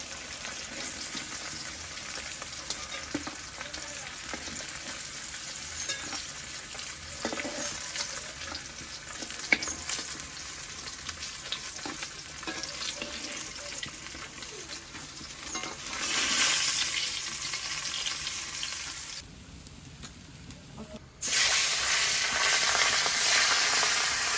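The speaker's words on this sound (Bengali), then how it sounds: "পুকুরের টাটকা মাছ তো খুব বেশি শক্ত করে ভাজবো না" Oil sizzles and crackles steadily as a fresh 3 kg pond fish fries lightly in a pan, close up, with brief shifts in intensity and a short quieter gap near the end.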